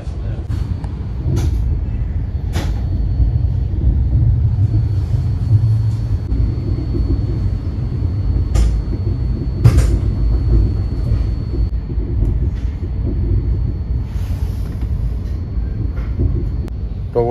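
Tejas Express 22119 pulling out of Mumbai CST station, a steady low rumble of the departing train with occasional sharp clanks and a faint high whine throughout, no talk.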